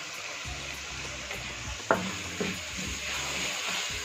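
Fresh fenugreek leaves drop into a pan of well-roasted masala for daal mash and sizzle under a steady frying hiss, broken by a couple of sharp clinks of utensil against pan, heard close at modest volume.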